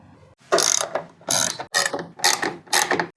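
Ratchet tightening the bolts on the bracket of a LockNFlate retractable air hose reel in a home shop, five close bursts of rapid clicking separated by brief pauses.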